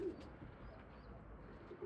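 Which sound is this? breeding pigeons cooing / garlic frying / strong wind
breeding pigeons cooing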